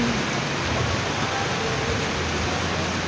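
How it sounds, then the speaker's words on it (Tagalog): Rain falls on a street in a steady, dense hiss that stays even with no breaks. "Mga kaboy, Toda, umulan na"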